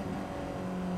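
A Honda CBR600RR motorcycle engine blips and drones steadily during a rev-matched downshift, a continuous close mechanical hum with sustained tonal bands and no break.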